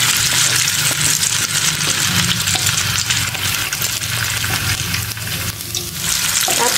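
Garlic sizzles and fries in hot cooking oil in a pan, a loud, steady, close crackling hiss that runs continuously from start to finish with no talking.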